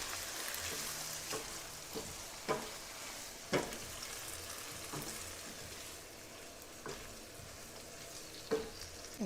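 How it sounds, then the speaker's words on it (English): Canned tomatoes being stirred into chicken pasta in a hot pan, soft sizzling under scattered scraping and clacking strokes of the spoon, fairly quiet and irregular. "now we're going to add in our 2 cans of tomatoes. And get everything tossed together."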